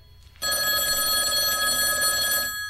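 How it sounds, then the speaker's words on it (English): A telephone rings once in a steady, loud electronic tone for a radio call-in show, clear and alone after a brief quiet start. "We have a phone call here?"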